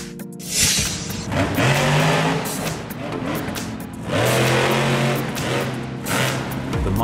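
The Brutus monster truck at Monster Jam revs its engine in loud, close bursts, surging twice with a deep growl and rising pitch between short lulls.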